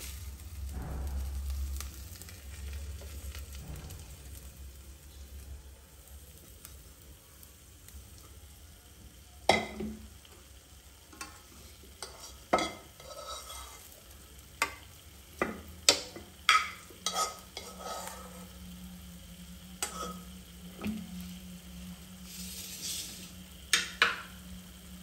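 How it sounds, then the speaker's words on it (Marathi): Sautéed capsicum and onion being stirred into masala in a pan: a faint, low sizzle under repeated sharp scrapes and clinks of a spoon against the pan, growing busier in the second half. "हे मसाल्यामध्ये चांगल्या प्रकारे असं मिक्स करून घ्यायचं।"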